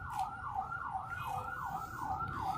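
An ambulance siren wails in a steady repeating up-and-down sweep, about five cycles, continuous and fairly loud over low road rumble, with no voices.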